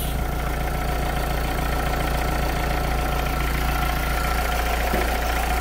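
A Renault Clio II dCi diesel engine, fitted with a faulty alternator pulley, idles steadily with a low, even rumble and a faint knocking rhythm, holding a constant level throughout with no speech.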